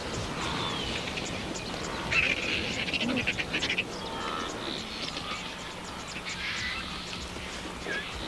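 Vultures squabble over a cheetah kill on the African savanna, their harsh hissing and squawking calls rising in a busy, steady chorus over outdoor ambience, with a few louder bursts near the middle.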